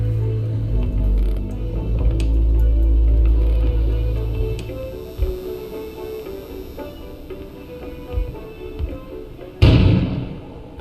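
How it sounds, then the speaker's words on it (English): A sudden explosion bursts outside in the video game Kona, a loud low-frequency boom near the end that follows a stretch of mechanical rumbling and thuds. "An explosion suddenly occurred outside."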